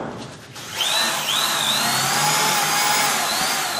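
A power drill bores through an apartment door lock, with a loud, steady grinding whine that rises in pitch and holds close by, over a constant mechanical rumble and no talk.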